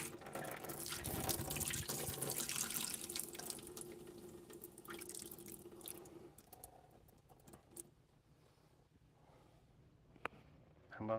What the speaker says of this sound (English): How about I pour out that beer?